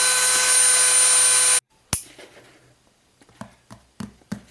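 A grinder whines loudly and steadily while grinding down the axle ends of a Matchbox Volkswagen Caravette toy car. The whine cuts off abruptly, followed by a sharp knock and a few light clicks and taps.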